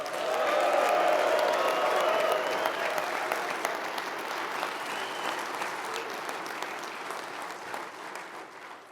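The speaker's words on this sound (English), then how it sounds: "Let's give him a cheer loud enough that he can hear us up in Maine." Large crowd at a building trades legislative conference bursts into loud applause and cheering, peaking early then settling into steady dense clapping that slowly fades.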